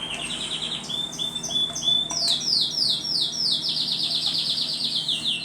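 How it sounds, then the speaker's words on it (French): A small bird sings outdoors in a run of clear, repeated chirping phrases, fairly close and steady, with no talk over it. "Et il chante l'oiseau,"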